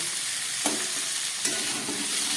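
Vegetables frying in a pan for a fish-head chhyachra dish give a steady, close hiss, broken twice by the brief scrape of a utensil stirring.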